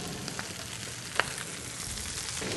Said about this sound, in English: So I'm sauteing the spinach simply with shallots, olive oil.